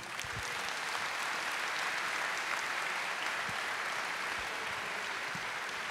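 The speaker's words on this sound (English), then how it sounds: "Give a round of applause to Leonard and Brian." Audience at a Diablo III world lore and environment art convention panel applauds the presenters, a steady wash of clapping from a large crowd, even and sustained, heard from a distance.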